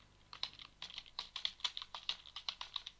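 Someone types on a computer keyboard while entering text into an Excel spreadsheet. The keystrokes are close, crisp and quick, in an uneven rhythm with no talking.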